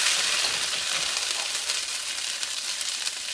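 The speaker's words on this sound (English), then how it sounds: "You fry the curry paste so the flavor will become, the flavor will come out more" Curry paste stir-fried in a hot pan for a Cambodian frog leg dish, giving a steady, close, bright sizzle that holds even throughout with faint crackles and no talking.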